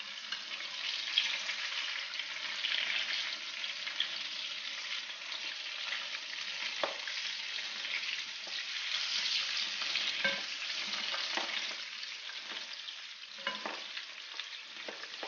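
Tunisian stuffed peppers frying in oil, a continuous bright sizzle and crackle at moderate distance, with occasional soft stirring and turning clatters and no talking.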